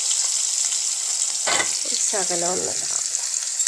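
Chopped onion, green chili and coconut pieces sizzle steadily in hot oil after mustard seeds have popped, a close, continuous frying hiss with stirring, as someone speaks briefly over it.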